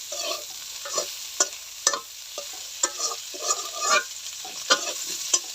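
Spice paste frying in mustard oil for a Bengali fish curry, with a steady hiss and repeated sharp stirring scrapes about every half second, close and fairly loud, with no voice.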